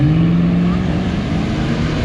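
Drag race car launching hard on a big nitrous shot at a race event, a loud, steady engine roar filling the whole stretch with a low droning tone that eases slightly.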